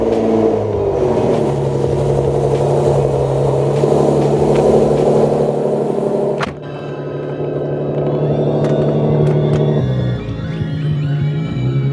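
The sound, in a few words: Nissan 370Z Nismo engine starting and revving, high flow cats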